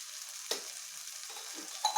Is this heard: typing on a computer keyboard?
no